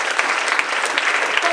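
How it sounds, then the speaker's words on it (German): An audience at an awards ceremony breaks into warm, dense applause as people are called to the stage, a short continuous burst of many hands clapping. "bitte einen herzlichen Applaus"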